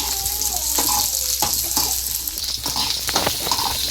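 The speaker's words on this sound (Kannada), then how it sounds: "ಎಣ್ಣೆ ಕಾದ ನಂತರ ಅದಕ್ಕೆ ಉಳ್ಳಾಗಡ್ಡಿ, ಒಂದೆರಡು ಈರುಳ್ಳಿ ಎಲ್ಲ ಚೆನ್ನಾಗಿ ಫ್ರೈ ಮಾಡಬೇಕು" Onions frying in hot oil for kushka rice, a steady close sizzle broken by sharp stirring scrapes and clatters, with no voices over it.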